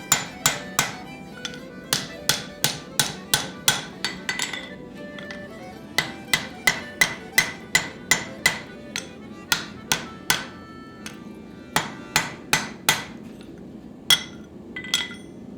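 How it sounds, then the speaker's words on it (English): A hammer strikes steadily on steel, drifting open the welded eye of a hand-forged folded axe. The ringing, metallic blows come in bursts of rapid, evenly spaced hits with short pauses between, close and clear with no voices. "A good way to see if your weld is strong is to carefully drift the eye of the axe."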